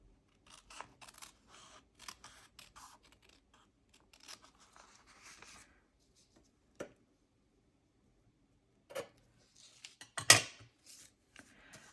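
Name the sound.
cutting paper off a journal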